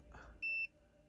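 A single short electronic beep from a multimeter on continuity test, steady and high-pitched, lasting about a quarter second against a quiet background.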